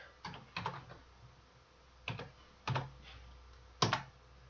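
Keys on a computer keyboard are struck in short, close bursts of a few quick taps, separated by brief pauses, with no talking.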